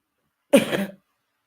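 One big, forceful cough, close and loud, with nothing else around it.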